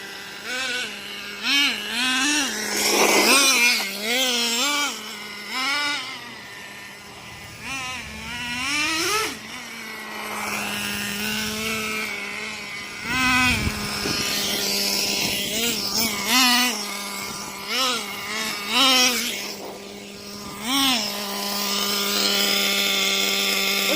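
Nitro engine of a Traxxas Jato 3.3 RC truck running on wet ground, revving up and down in repeated high-pitched whining bursts, loud and close throughout.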